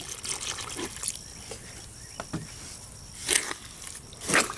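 Water poured and trickled into a Portland cement mix for a draped flower pot, with intermittent splashes and wet sloshing bursts standing out against a quiet background.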